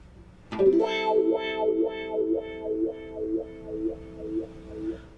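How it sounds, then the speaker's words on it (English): An electric guitar note is held through an auto wah pedal, its tone sweeping in a steady looping wah cycle at a set tempo, about nine even pulses fading gradually, up close and alone. "If you hold a note, you can hear the wah sound cycle in a loop that repeats at the tempo that you have selected."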